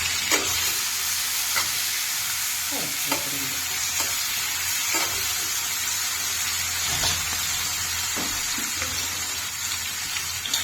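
Brinjals frying in hot oil for North Karnataka badanekayi ennegayi, with a steady hiss of sizzling and occasional scrapes of a spoon stirring in the pan, close and moderately quiet.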